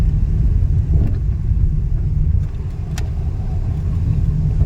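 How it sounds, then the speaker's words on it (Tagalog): A newly bought car drives along, its engine and road noise forming a steady, close, low rumble throughout with a few brief knocks. "bagong biling sasakyan"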